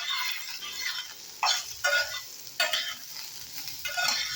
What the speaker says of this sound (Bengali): সবজিটা দিয়ে একটু নেড়ে চেড়ে নেব।